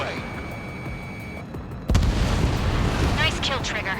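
In the Ace Combat 7 flight game, an enemy aircraft blows up after a missile strike: a sudden loud blast that cuts through the steady jet and engine drone, then a long rumbling roar of debris and wind noise.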